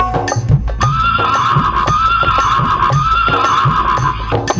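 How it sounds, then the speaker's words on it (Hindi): A horse whinnies loudly and at length, its high neigh wavering over a steady backdrop of hoofbeats and layered music-like tones. "एक हिनहिनाता घोड़ा दरबार को खड़े"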